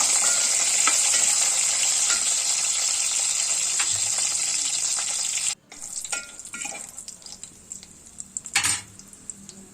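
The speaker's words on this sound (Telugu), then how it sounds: "నూనె ఆయిల్ పెట్టింది తర్వాత ఆవింట్లు బండి వేసేసాను" Mustard seeds spluttering in hot oil for tempering a tamarind rasam, a loud dense crackling sizzle that suddenly drops off, then softer sputtering with clinks of a pan and utensils.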